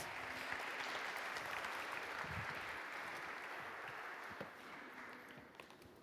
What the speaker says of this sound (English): And here's your applause.